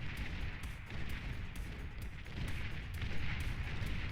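Tech 2 tanks firing in the strategy game Beyond All Reason, a dense, continuous barrage of overlapping booms and shots at steady loudness, swelling slightly toward the end, with no talk.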